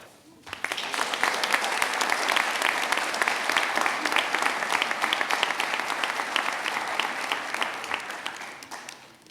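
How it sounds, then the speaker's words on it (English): A commencement audience applauds steadily for several seconds, a dense, even wash of many hands clapping that rises quickly and fades at the end. "I know I have one fan out there who continuously applauded"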